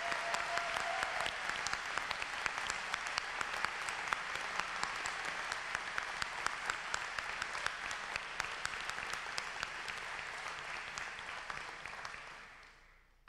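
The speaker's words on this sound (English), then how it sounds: "Let us honor their special accomplishment with a round of applause." A graduation audience at Walsh University's 2018 winter ceremony gives a long, steady round of applause for new master's graduates: dense, sustained clapping from a large crowd that fades out at the end.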